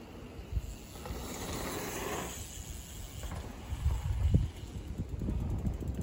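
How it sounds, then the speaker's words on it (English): Wind buffets the microphone at a bike park in uneven rumbling gusts, swelling loudest midway and staying blustery to the end. "I hope we got enough footage because it's so windy"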